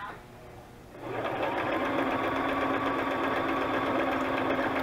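Sewing machine chain stitching book-page pockets for a junk journal: after a quiet second, the motor starts and runs as a steady, continuous mechanical whir close by.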